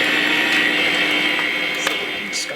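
An electric hand mixer whirs steadily through rum bundt cake batter, a constant high-pitched motor drone close by with faint clinks against the bowl.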